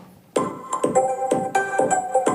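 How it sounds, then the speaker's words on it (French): Phone notification sounds rearranged into a music beat: bright chiming electronic hits land in a quick, steady rhythm, each with a punchy low thump, loud and alone with no talking. "Et ça, transformé en beat, ça donne ça."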